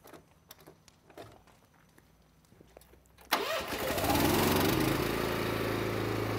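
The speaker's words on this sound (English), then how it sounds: "Then he will start up the engine to be able to fight the fire." A firefighter's pump engine being started at a fire: a few clicks and soft knocks, then the motor catches abruptly and settles into a loud, steady running roar close by, with no talking.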